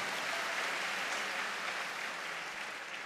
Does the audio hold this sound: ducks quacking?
no